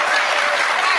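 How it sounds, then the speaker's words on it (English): A sudden burst of studio audience applause, dense and loud clapping that fills the whole short moment at an even level. "I don't know why that sudden eruption of applause just came out"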